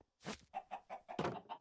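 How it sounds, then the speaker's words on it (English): A chicken in a modded Minecraft world clucks in a quick run of short, evenly spaced clucks, faint but clear and with no talking over them. "Chicken! Come back here."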